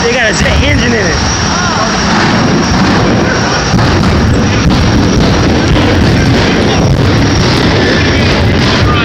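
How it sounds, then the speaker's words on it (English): A jet-engined car running on a track, its loud, continuous roar filling the scene with rumbling bursts and crackling pops, people talking over it. "They got a jet engine in it."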